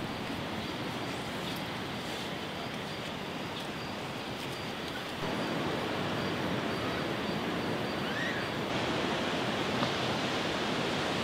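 Sea waves wash onto a beach at night as a steady, dense roar of surf that swells slightly louder partway through, with no voices.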